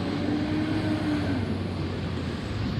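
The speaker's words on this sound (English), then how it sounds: "There's a garbage truck coming, so if it gets loud, I apologize." A garbage truck's heavy engine rumble fills the scene as a steady, fairly loud low drone with broadband road noise, holding constant without pauses and no talking over it.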